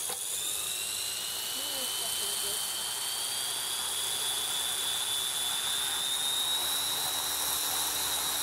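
A model helicopter flying at an RC field, giving a steady high-pitched turbine whine with a sustained rotor drone that stays loud and continuous throughout.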